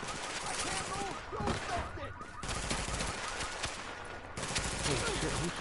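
Sustained gunfire in Tom Clancy's The Division video game, a dense fusillade of rapid automatic shots and overlapping bursts that barely lets up, with voices faintly mixed in.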